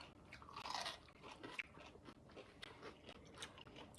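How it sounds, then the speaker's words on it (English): Close, loud crunching bites into raw cucumber, several crisp snaps and chewing crunches spread unevenly over a few seconds with no talking. "This is how you crunch."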